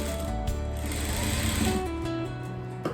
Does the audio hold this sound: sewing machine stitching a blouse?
yes